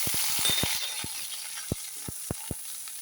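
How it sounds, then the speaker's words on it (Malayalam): Curry leaves frying in hot oil in a pan, a soft continuous sizzle close by with a run of sharp clicks and taps early on, then a few scattered taps, no voices. "ഇനി നമുക്ക് അതിനകത്ത് കറിവേപ്പില കുറച്ച് വറുത്ത്"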